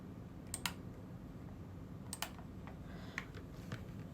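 Several faint, sharp clicks scattered over a quiet background hiss, coming in small pairs and singles at irregular moments.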